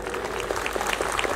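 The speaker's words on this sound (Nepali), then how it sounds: "एकचोटि पशुपति सर्पलाई जोरदार ताली." Audience applause at a live comedy caricature show in Nepal, a steady dense clatter of many hands clapping together, loud and close throughout with no talk over it.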